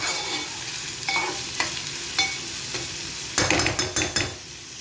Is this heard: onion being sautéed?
yes